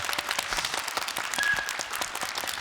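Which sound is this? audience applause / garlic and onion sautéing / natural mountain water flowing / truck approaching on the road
audience applause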